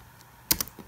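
A few quick keystrokes on a computer keyboard while a terminal command is entered in macOS Internet Recovery, a short close cluster of crisp clicks in a quiet room.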